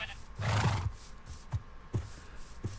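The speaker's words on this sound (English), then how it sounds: "horses are great" A horse in Minecraft gives a short, loud whinny, followed by a few soft, spaced thumps and snorts.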